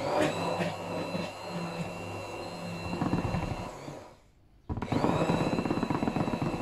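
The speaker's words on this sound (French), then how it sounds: "Moi, personnellement, j'aime bien le faire avec le mixeur plongeon." Immersion blender whirring through clafoutis batter for rhubarb clafoutis, a loud buzzing motor that cuts out briefly, falls nearly silent for about a second, then starts again with a rough churning whine.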